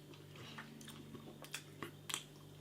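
Close, quiet chewing of tough BBQ beef jerky, with soft irregular bites and moist squishing crunches spaced across a couple of seconds.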